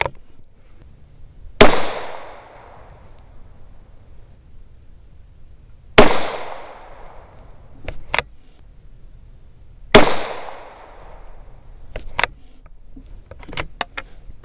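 .17 HMR rifle shots ring out three times at spaced intervals, each a sharp loud crack with a brief decaying echo, followed by faint metallic clicks of the action being worked.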